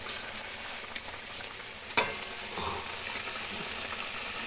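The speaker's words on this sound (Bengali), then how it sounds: "মাছগুলো দিয়ে একটু নেড়ে দিচ্ছি।" Pabda fish fry in a pan while a spatula stirs them. A continuous close sizzle runs throughout, with a single sharp clack of the utensil midway and soft stirring scrapes, and no voices.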